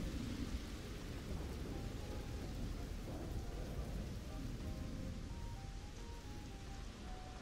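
Rain falls on coastal mountains in the video game Starfield, a steady faint hiss with low rumbling beneath, continuous throughout and with no voices.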